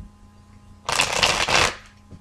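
A single close, loud riffle of tarot cards, a brisk burst of papery flutter lasting under a second, with quiet room noise around it.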